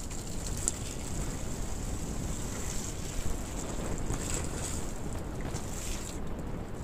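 Water from a hose is sprayed onto a window during an insulation test, giving a steady, close hiss and rush that continues unbroken throughout.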